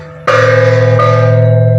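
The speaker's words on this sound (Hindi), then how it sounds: "घंटी बजवा में जे है बड़ मेहनत है" A large temple bell struck once, a loud sudden clang followed by a rich sustained ringing tone with many overtones, with a slight second impulse about a second later as it swings.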